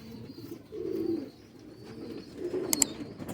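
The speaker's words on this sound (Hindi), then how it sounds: "ये बहुत रिजल्टेड कबूतर है" Patti-marked pigeons cooing softly in two low, rounded bursts, close by, with a brief sharp click near the end and no talk.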